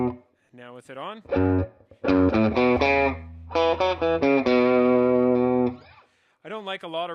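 Electric guitar chords and notes through a Swart AST Atomic Space Tone combo amplifier ring out with a washy reverb tail, played in short phrases with brief pauses between them.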